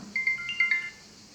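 A phone rings with a short electronic ringtone, a few quick bright chirping tones in a burst before it cuts off, heard indoors at moderate volume.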